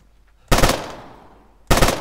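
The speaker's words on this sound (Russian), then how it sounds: "Ну и что за стрельба?" Two sharp bursts of automatic gunfire from the Arma 3 military shooter game crack out loud and close, the first fading into a short echoing tail before the second begins.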